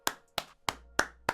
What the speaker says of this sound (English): Claps, everyone.